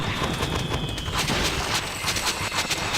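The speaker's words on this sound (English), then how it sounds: "Let's pop a volley. And then let's keep throwing frost shots down." Rapid volleys and frost shots fire continuously in The Mighty Quest for Epic Loot, a dense stream of crackling, bursting game effects under busy battle noise.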